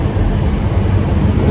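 An electric train runs on Romania's double-track electrified line 702 between Fetești and Făurei across the Bărăgan plain, giving a close, loud, continuous rolling rumble with no break.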